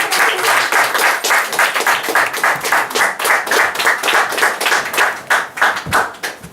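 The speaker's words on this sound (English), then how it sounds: "Let's give a big round of applause" An audience applauds a performer at a magazine anniversary celebration, with a rhythmic, fairly close round of clapping that pulses steadily for several seconds.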